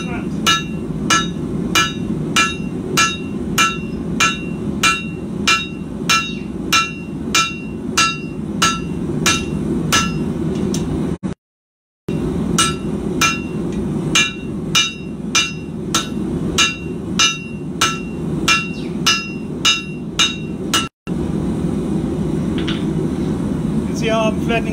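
Hammer blows ring out as a Criollo knife blade is forged flat, a fast, steady series of sharp metallic strikes with two short breaks, under a background hum.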